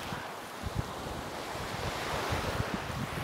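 Waves wash up on the beach at Kalanggaman Island, where the current is strong and foam builds along the shore, heard as a steady, faint hiss of surf mixed with wind buffeting the microphone, with no voices.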